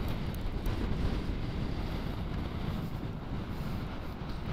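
Strong wind buffeting a rider on a Philippine motorcycle loop between Vigan City and Pamplona, Cagayan, a steady loud rumbling roar across the whole moment with no talk.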